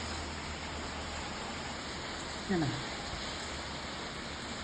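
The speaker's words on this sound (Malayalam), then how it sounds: "അടിപൊളി മഴയാണ് പുറത്ത്" Heavy morning rain falling outside, a steady dense hiss that runs unbroken at even loudness, with one brief spoken word midway.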